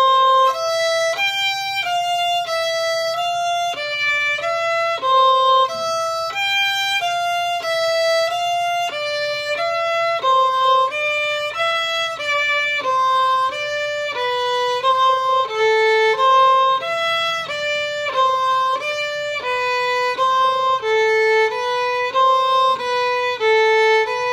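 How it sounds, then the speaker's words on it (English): Violin playing Kreutzer Etude No. 1 with détaché bowing, a continuous run of separate, evenly bowed notes moving up and down the strings, close and solo. "Practice my detaché stroke on a piece called the Kreutzer Etude Number 1"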